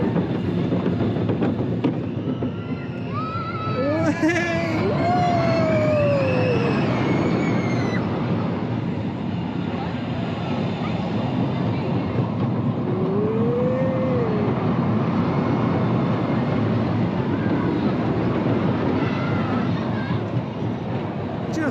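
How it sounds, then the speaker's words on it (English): A small Zierer family roller coaster at Paultons Park rolls along its two-lap track with a continuous rumble and roar of wheels and wind. Riders' voices and squeals rise over the noise now and then. "Great little Zierer coaster this."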